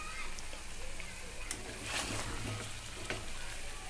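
Mutton curry with Kashmiri red chili powder stirred in a hot pan, a dense continuous sizzle with soft scraping strokes of the spoon, close and steady.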